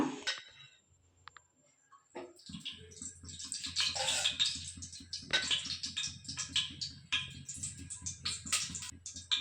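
Cooking oil poured into a hot pressure cooker, a quiet start giving way to a dense crackling sizzle with faint clicks and rattles that builds and keeps going steadily close by, no one talking.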